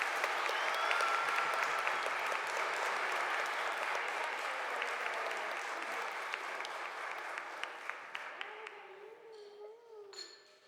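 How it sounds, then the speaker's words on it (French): Congregation applauding at a Pentecost Mass in church, sustained clapping from a crowd that gradually thins and fades out, with a few scattered claps and a faint voice at the end. "on applaudit bien fort"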